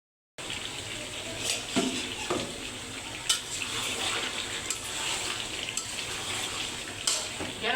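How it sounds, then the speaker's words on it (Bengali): Water pours steadily into a pot of chicken pulao, a continuous rushing splash with a few brief clatters and knocks over the flow. "এবার জল দিয়ে দিতেছে"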